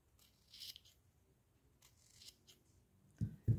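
Scissors snip through satin ribbon while a hair bow is made, a few quiet crisp cuts spaced apart, then two louder closing snips at the end.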